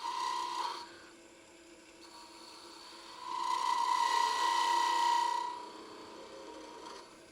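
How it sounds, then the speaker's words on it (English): A wood lathe spins a light pull blank while a slicing cut is made across its end, giving a steady rasping, scraping hiss that swells louder for a couple of seconds in the middle over the lathe's constant hum. "We're going to do a slicing cut right across that end."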